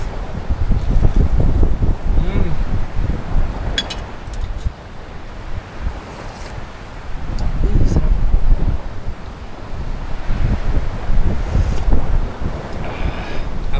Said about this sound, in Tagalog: tunog ng alon sa dagat